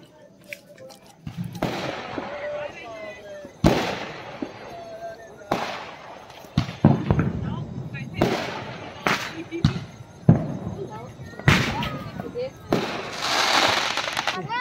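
Firecrackers burst in a series of sharp, loud pops and bangs at an outdoor festive family gathering, spaced irregularly over crackling noise, with people talking in the background.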